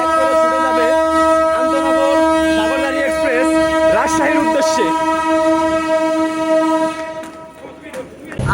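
A loud train horn blares steadily over rumbling railway noise at Khulna railway station, then fades away toward the end.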